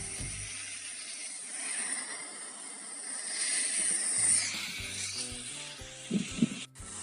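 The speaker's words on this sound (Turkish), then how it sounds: "Üstünü kapattıktan sonra ince bir şekilde şu anda sulama yapıyoruz." Water sprinkles over soil freshly covered on sown pepper seeds, making a soft, continuous hiss and patter. A few light handling knocks come near the end.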